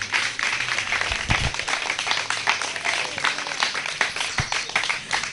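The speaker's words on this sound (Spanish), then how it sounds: "Un aplauso al Eterno." A congregation at a religious teaching session breaks into applause, a continuous patter of hand claps at moderate distance with a few sharper individual claps standing out, and no voice over it.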